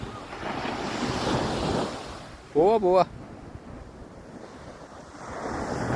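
Sea waves wash onto a beach in a steady, broad roar with gusting wind buffeting the microphone, and a person says a brief word partway through.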